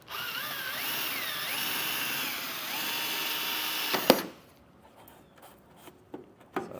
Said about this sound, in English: We're just going to drill out through the center of it.